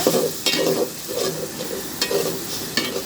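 Pieces of country chicken cooking with spices in a hot pan for a papaya curry sizzle loudly, while a spoon scrapes and stirs in several short bursts close up, with no one talking.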